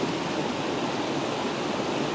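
Steady broadband rush of a waterfall at Tom Gill Falls, Tarn Hows, in ferny woodland, heard as a close, even, continuous roar with no voices.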